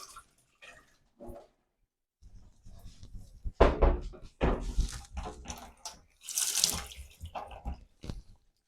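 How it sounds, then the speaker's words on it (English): Rinse water tipped and poured out of a Pinter 3 home brewing fermenter while it is rotated, splashing and gurgling in uneven close bursts with short quiet gaps between pours. "As I tip the Pinter up, I tend to rotate the top, rotate the Pinter to give the lip a good rinse as I'm tipping it all out."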